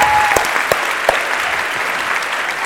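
An audience in a hall gives steady, full applause for the mentors at a session in Pärnu, a continuous wash of clapping with a few sharper claps standing out near the start.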